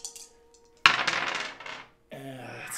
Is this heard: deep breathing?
no